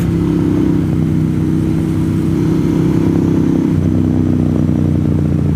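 A motorcycle engine drones steadily and loudly while riding along Wayah Road, a constant rumble with wind noise. Its pitch drops slightly partway through, as if from a gear or throttle change.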